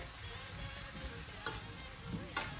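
Turmeric fries in a pan for aloo gobi, giving a faint, steady sizzle with a few brief scraping stirs, quiet and without talking.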